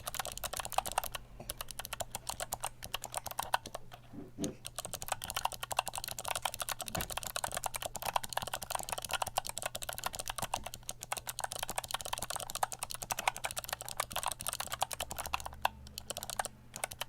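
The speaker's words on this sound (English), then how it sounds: "a typing sound sample of this final keyboard" Rapid, continuous clacking of keys on a mechanical keyboard, close and crisp, with brief pauses between bursts of typing and no voices.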